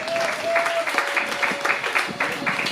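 Steady applause from a church congregation, with a faint sustained tone underneath and some voices mixed in.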